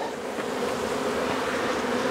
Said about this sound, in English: There's a few bees here.